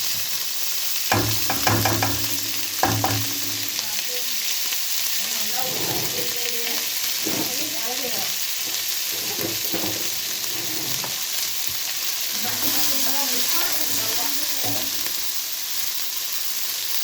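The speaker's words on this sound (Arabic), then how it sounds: "بحمر البصل اهو" Onions frying in a pan for homemade shawarma, a constant close hiss of sizzling oil broken by intermittent scraping and stirring clatter, with no talking.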